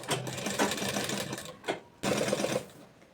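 Sewing machine stitching palazzo pant fabric, a steady close mechanical whir running nearly continuously with a brief pause midway before resuming.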